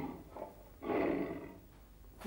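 Tiger roaring in a children's TV programme: a single loud, rasping roar of about a second, preceded by softer growling sounds.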